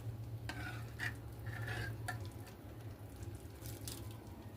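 A spoon stirs a cooked lentil and jaggery mixture with a little milk in a pot, soft scraping strokes over a low simmering hiss, a few brief clinks standing out early on.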